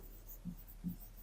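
A pen scratches across paper while a maths problem on polynomials is written out. Two faint, brief strokes come about half a second apart in a quiet room.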